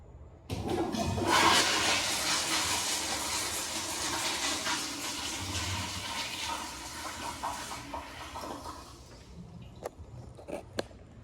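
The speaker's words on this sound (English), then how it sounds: "Now a low bowl light flush." A low-flow toilet in a campground restroom flushes loudly on a light, low-bowl setting, with a rushing swirl of water that gradually drains and fades, followed by a few small clicks near the end.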